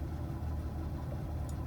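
A 1982 Ford F150 with a 4.9-liter inline-six and a new stock exhaust idles steadily, a low, even rumble held at moderate distance with no other sound.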